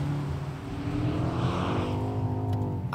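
BMW X6M Competition engine revving and winding up while drifting in 4WD MDM mode, a loud rising roar with some whooshing noise, close and continuous without talk.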